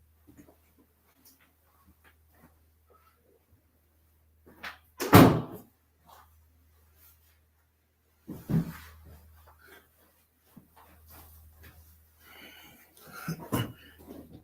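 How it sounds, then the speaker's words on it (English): After near silence, a door shuts with one sharp thud, followed later by quieter shuffling and knocking sounds. "Give me 1 second while I close the door."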